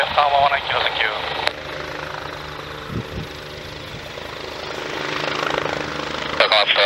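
A Kawasaki BK117C-2 emergency-dispatch helitack helicopter runs at an airport, its rotor and turbine drone loud and steady throughout while radio chatter with the tower sounds over it.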